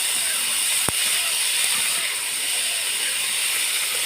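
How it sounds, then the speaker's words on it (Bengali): Beef frying in a pan with chopped dried chilies, green chilies, garlic and onion, a steady close hiss with one brief sharp click, no voices. "এর ভেতরে কেটে রাখা মরিচ কাঁচামরিচ রসুন পেঁয়াজ দিয়ে দেবো দিয়ে ভালোভাবে ভেজে নেবো"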